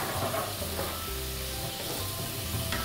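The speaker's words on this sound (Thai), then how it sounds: "จากนั้นผสมให้เข้ากันนะครับก่อนที่จะใส่เส้นลงไป" Sauce is stirred and mixed in a hot, sizzling pan for Thai-style grilled chicken pasta, seasoned with salt and pepper, with a steady close frying hiss and scraping stir strokes throughout and no talking.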